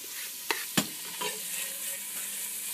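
Onion, ginger, turmeric and tomato fry in a pan with a steady broadband sizzle, broken by two sharp stirring knocks near the start and softer scrapes later, no voices.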